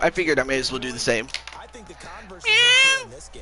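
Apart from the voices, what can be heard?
cat meowing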